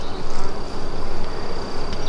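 Honey bees buzzing loudly and continuously during a hive inspection while brood boxes are added, a close, dense droning hum with slight pulsing and no talk.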